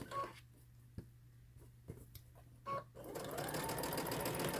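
A Brother Innov-is VM5100 sewing machine with a zipper foot topstitching fabric: a few brief stitch bursts with pauses, then a steady, close whirring run of stitching over the last second and a half.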